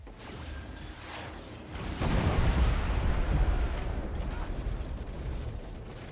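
A projectile detonates mid-air in the Forts RTS game, a sudden loud boom that swells into a sustained crumbling rumble of collapsing structure.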